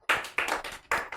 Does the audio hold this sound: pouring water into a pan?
no